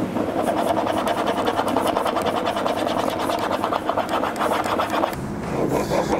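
A hand plane blade rubbed back and forth on a sharpening stone, a steady, loud, close gritty scraping with a fast rhythmic pulse that runs for about five seconds, then briefly softens before resuming.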